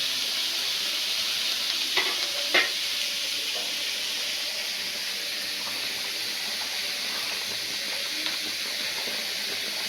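Thick curry sizzles and hisses steadily in a pan while a spoon stirs, with a few soft scraping knocks against the pan.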